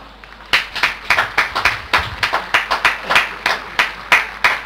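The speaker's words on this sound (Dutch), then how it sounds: "Ons applaus is jullie beloning." A small crowd claps steadily after a wind band performance, with sharp individual hand claps standing out in a loose, uneven rhythm, moderately close.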